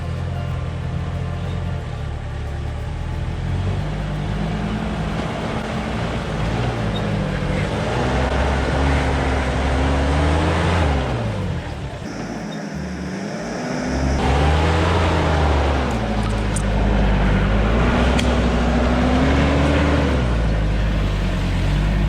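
A 4WD fitted with a new diff locker labours up a steep off-road track, its engine droning loud and close with rising and falling revs and a brief dip midway.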